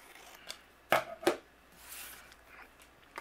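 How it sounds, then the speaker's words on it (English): Scissors snip through overhanging card paper while making Christmas cards, with two sharp close cuts followed by softer paper rustling and a faint final snip in a quiet room. "then I'm going to trim away what's overhanging"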